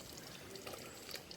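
Milk pours into a pot of pumpkin payasam with dry fruits, a soft, quiet liquid trickle lasting about a second and a half.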